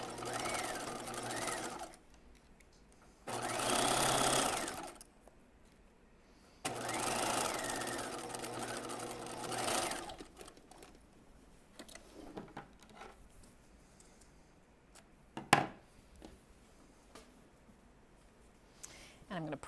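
A home sewing machine stitches fabric for Marilyn jeans at a 5/8-inch seam, running in three loud bursts of steady whirring with quiet pauses between them, then some fainter handling clicks, and no talking.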